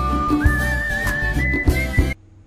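A film whistler whistles a sustained melodic line that rises and holds, close and clear over soft background music, then stops abruptly.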